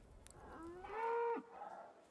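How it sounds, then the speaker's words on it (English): Cattle in a video game moo loudly in one long, rising call that breaks off abruptly, followed by a quieter trailing lowing. "Why are these cows so loud?"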